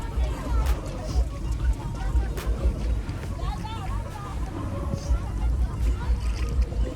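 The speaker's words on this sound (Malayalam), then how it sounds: "ഇതാണ് ശിക്കാര ബോട്ട്." A shikara boat out on the water in Kerala, with a low steady rumble of water and motion and a constant murmur of people talking on board.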